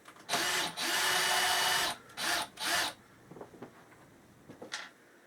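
Power drill backing screws out of a unit: several whirring bursts, one long and a few short, up close and loud, then quiet clicks and handling noises.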